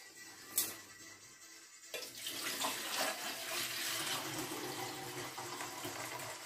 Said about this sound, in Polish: Zalewamy filterek wodą do pełna